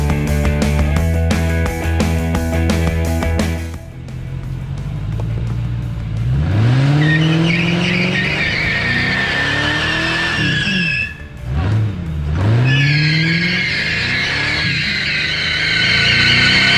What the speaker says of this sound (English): we're fixing to destroy these tires